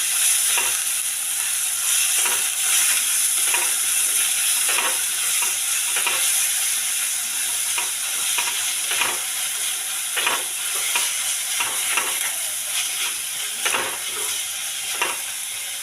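Two medium tomatoes frying in a pan give a continuous bright sizzle, with repeated spoon scrapes and stirs as they are turned, close and steady with no talking.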